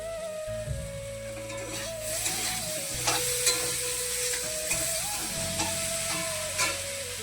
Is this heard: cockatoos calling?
no